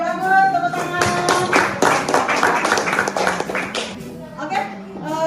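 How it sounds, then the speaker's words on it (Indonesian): Applause in a classroom at the end of a lesson on trigonometric limit functions: steady group clapping over about five seconds, mixed with voices talking. "bagus, tepuk tangan."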